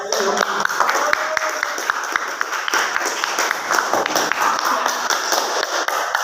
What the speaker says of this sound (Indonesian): Mari kita tepuk tangan meriah ya.